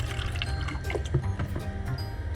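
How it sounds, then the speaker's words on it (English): Extra water poured into a glass grinder's reservoir before grinding leaded glass edges, heard as close trickling and dripping with faint splashes over a steady low machine-like hum. "So we're first going to put some water, extra water into here."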